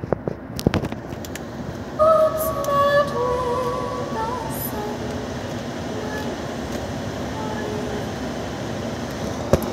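A 2018 Toyota C-HR Hybrid with an 1800 cc engine being started: a few sharp clicks, then an abrupt rise into a steady, moderately loud low hum that holds to the end.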